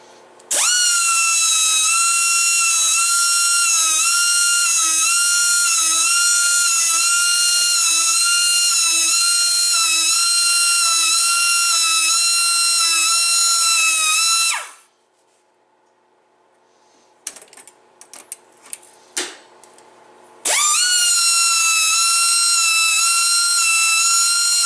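A file on a Woodmizer LT15 sawmill blade gives a loud, sustained, buzzing rasp for about fifteen seconds, then a pause with scattered light taps and clicks, then the same grinding rasp resumes.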